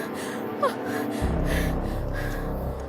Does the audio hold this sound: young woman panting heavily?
yes